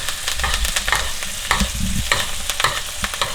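A beef steak sizzles and crackles steadily in a hot pan, a loud and continuous close frying sound with no talking.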